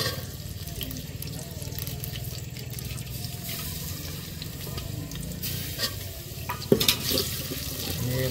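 Ginger and garlic fry in hot oil as a tempering for a spicy mutton dish, giving a steady close sizzle with a brief utensil clatter near the end.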